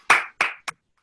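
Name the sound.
applause, clapping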